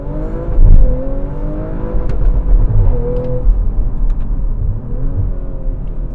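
An Audi RS4 engine revs toward the rev limiter and holds a high, rising whine with harmonic sweeps, settling and climbing again over a steady low rumble, close by.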